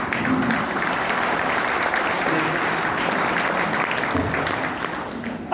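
A large seated audience at an event breaks into loud, sustained applause, heavy continuous clapping that stays steady and close before tapering slightly at the end.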